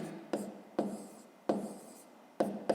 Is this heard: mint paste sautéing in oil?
no